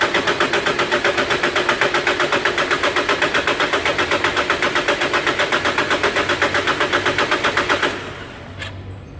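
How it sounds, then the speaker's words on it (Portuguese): A Mitsubishi Triton diesel engine runs with a loud, rapid rhythmic clatter, pulsing steadily for about eight seconds before cutting off abruptly, followed by near silence and a faint clunk. "hoje vocês vão ver a primeira partida de um motor a diesel"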